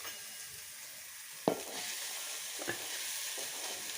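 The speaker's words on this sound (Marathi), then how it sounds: "तर आता पहा, याच्यामध्ये हा चोथा टाकते अगोदर" Leftover wheat pulp, the residue from extracting wheat starch, sizzles steadily in a hot pan, with a couple of sharp clinks from a spoon against the pan over a soft, continuous frying hiss.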